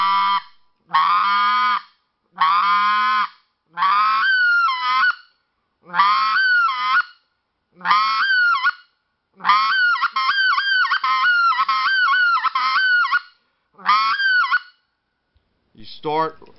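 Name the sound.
goose call being blown, low end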